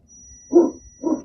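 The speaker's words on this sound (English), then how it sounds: "Don't mind all the dogs in the background." Dogs bark in the background during a Shark vacuum hose repair, two short muffled woofs about half a second apart, moderately loud with no talk over them.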